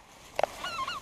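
Wild geese honk during a duck hunt in South Louisiana, two quick close calls followed by a fainter, drawn-out honking cry, all within about a second.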